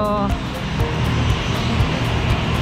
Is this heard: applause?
no